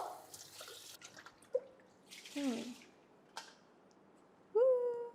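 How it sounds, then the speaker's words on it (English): A Thermomix mixing bowl being lightly rinsed with water, heard as quiet, scattered splashes and drips with a few brief squeaky trickles and long pauses between them. "So rinse the mixing bowl."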